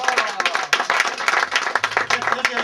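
Scattered, uneven clapping from a small comedy club crowd, individual claps standing out in bursts, with voices talking and calling out over it.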